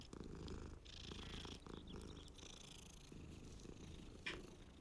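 A cat purrs in Hogwarts Legacy, a soft, steady rumble running continuously under layered game ambience and music, with one brief brighter blip near the end.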